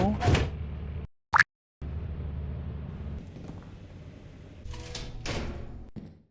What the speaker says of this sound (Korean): 빠른 후퇴 바로 문을 닫고